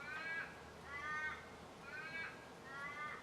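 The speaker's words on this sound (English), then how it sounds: "The crows are calling today." Australian crows cawing in a slow series of four harsh calls, evenly spaced, at moderate distance over a quiet outdoor background.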